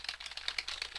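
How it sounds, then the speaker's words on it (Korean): Rapid typing on a computer keyboard, a quick irregular run of light, close clicks and taps at low volume, with no voices. "키보드 소리 들리죠?"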